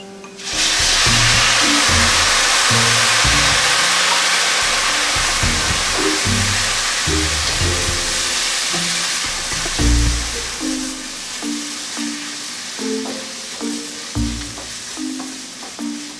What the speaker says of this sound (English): next in goes our marsala